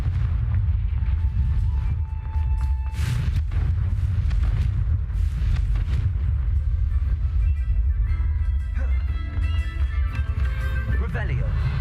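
The Confringo fire-blast spell is cast in Hogwarts Legacy: a heavy, sustained booming rumble with a few sharper bursts rolls on throughout, with a person talking over it.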